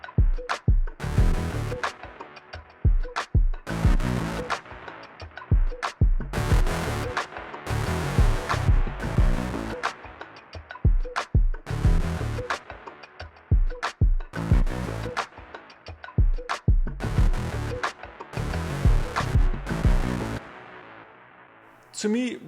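A Soundpaint Guitar 2020 PR-S sampled guitar plays in a harsh, piercing tone with choppy, repeated notes and phrases, its loudness rising and dropping as the volume is turned up and down, close and without talk.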